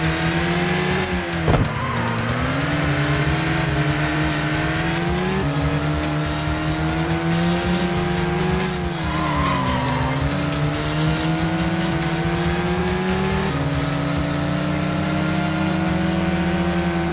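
Race car engines roar and rev in a retro racing video game, loud and continuous, with pitch rising and dropping through gear changes and bursts of tire squeal.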